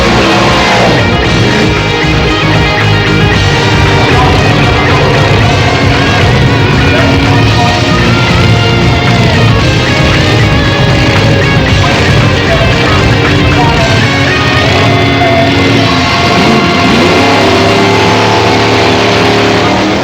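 Drag racing cars, including a BMW, launch in a final at WesBank Raceway during the 2004 South African Drag Champs, a loud, dense, sustained engine roar that fills the whole stretch.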